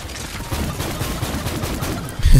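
Borderlands 3 gunfire: a quick, dense rattle of shots runs through the whole stretch at moderate volume, ending in a heavier low thump.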